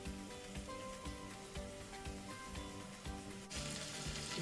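Mutton pieces browning in a pan for Rajasthani laal maas: a steady, faint, broadband sizzling hiss with tiny crackles, continuous throughout and slightly louder near the end.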